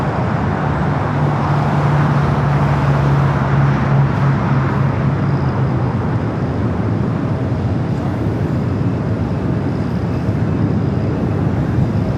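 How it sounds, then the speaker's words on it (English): A Delta A350 airliner takes off at Los Angeles International Airport, a steady, loud, distant roar that holds at one level throughout with no voices. "We do have a Delta A350 taking off there on the north side."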